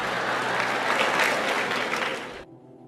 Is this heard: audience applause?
yes